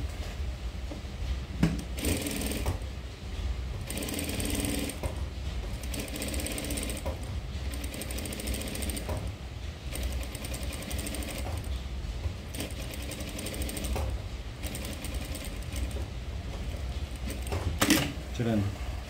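A sewing machine stitches a boat-neck paithani saree blouse back neck along its marked shape, running in repeated bursts with short pauses, with faint background noise throughout.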